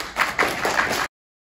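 A school Presentation Day audience claps for award winners in a short burst of about a second, a few distinct claps in a modest room before cutting off to silence.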